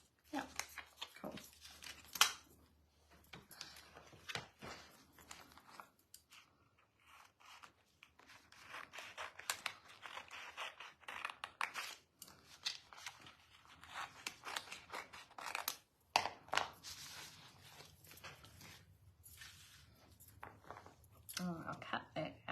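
Paper design being cut out with scissors at a craft table, soft irregular snipping spread through the clip with quiet gaps between cuts, while a person talks over much of it.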